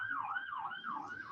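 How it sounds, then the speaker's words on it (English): Emergency vehicle sirens wail outside, a steady rising-and-falling tone repeating about every half second and carrying a moderate, unbroken presence with no other sound standing out. "Sorry about the sirens."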